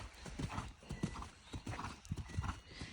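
A horse named Deeks walks with steady hoof clip-clops, letting out soft snorting breaths in rhythm with its stride, faint and close.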